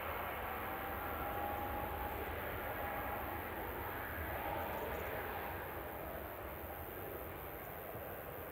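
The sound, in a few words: KLM Embraer E2 jet lining up on runway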